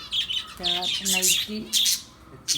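Several short, high bird chirps and squawks in quick bursts, close by, mixed with brief tonal calls.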